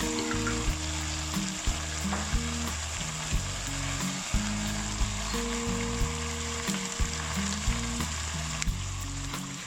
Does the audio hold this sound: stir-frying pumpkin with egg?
yes